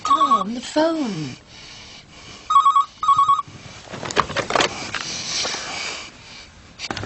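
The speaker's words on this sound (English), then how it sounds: "Tom, the phone." A telephone rings in a police drama, with three bursts of a steady electronic double tone early on, then a muffled, busy stretch of movement and noise follows.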